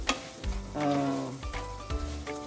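Pork belly sautés in a pan for Ilocano-style pinakbet, with a close, continuous sizzle and frying crackle broken by short stirring scrapes.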